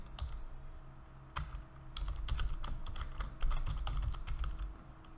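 Keys tapping on a computer keyboard while code is written, giving an uneven run of quick, close clicks with short pauses between words, heard alone without speech.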